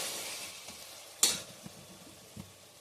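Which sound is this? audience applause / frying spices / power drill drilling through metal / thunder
frying spices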